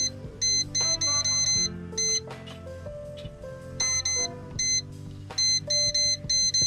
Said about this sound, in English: So turn our air fryer on.